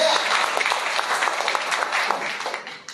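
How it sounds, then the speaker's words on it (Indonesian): A church congregation applauds, a full, continuous sweep of many hands clapping fairly loudly with some voices mixed in, easing slightly toward the end. "Tepuk tangan bagi Allah."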